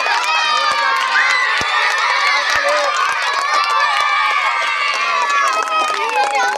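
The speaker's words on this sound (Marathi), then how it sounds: "टाळ्या वाजवा" Schoolchildren at a village primary school, cheering loudly and continuously as a crowd, with shrill shouts and a few sharp claps mixed into a dense, energetic din that lasts throughout.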